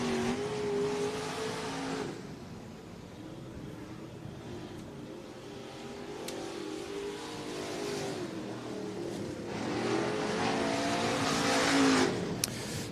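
Race cars lap Southern Oregon Speedway in Medford, Oregon, engines swelling loudly as they pass near, fading to a distant drone mid-lap, then roaring close again toward the end.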